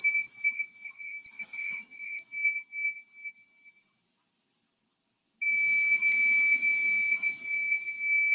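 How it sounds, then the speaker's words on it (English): An electronic buzzer on a robotics project sounds a shrill string of rapid pulsing beeps. After a few seconds of silence it returns with longer, near-continuous beeps. "So the beep is longer."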